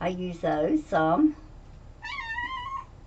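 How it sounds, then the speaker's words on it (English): A pet cat lets out a single drawn-out meow, close and fairly clear, just after someone speaks a short phrase. "Excuse my cat. She's still aggravating me."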